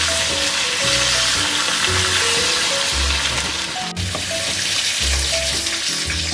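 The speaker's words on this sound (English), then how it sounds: "So we just let that brown up a bit." Seasoned turkey pieces, left to marinate overnight, brown in a hot pan for a stew. A steady close sizzle carries through with a brief clink partway.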